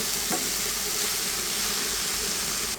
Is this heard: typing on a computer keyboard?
no